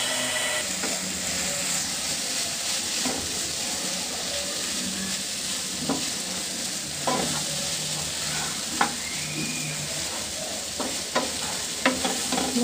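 Malabar spinach and dried fish stirred and fried in a pan over medium heat, with a steady sizzling hiss and scattered scraping stir clicks throughout, close and moderately loud.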